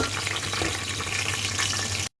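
Onions sizzling and frying steadily in a hot pan for an Indian tadka, a dense continuous crackle with occasional stirring, close and fairly loud, no talk, ending abruptly.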